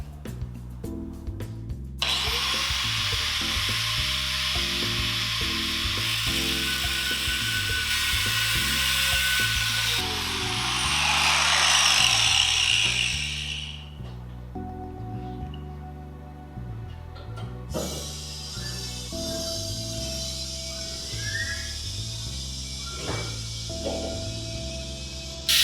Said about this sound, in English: Up the side with the cutoff wheel